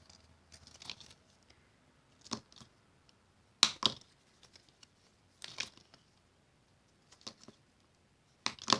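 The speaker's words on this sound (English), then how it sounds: "give it a good crease with my bone folder." A bone folder pressing and creasing paper around a box, heard as soft, scattered crinkles, rubs and taps with quiet gaps between them, close by.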